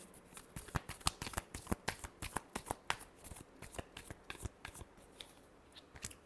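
Tarot cards are shuffled close up in a quick series of crisp riffling slaps and flicks, with uneven rhythm and no talking.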